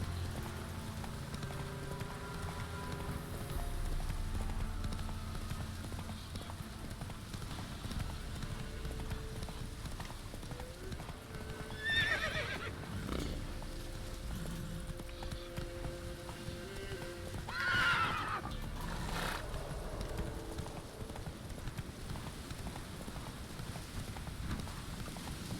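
Roach, a horse in a video game, runs with steady hoof clip-clops over a rumbling backdrop, giving two distinct whinnies a few seconds apart, with possible rain in the background.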